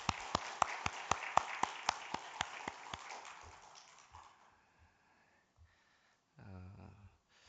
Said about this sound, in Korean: 우리 교사들 전도사님 힘내시라고 우리 박수 한번 하겠습니다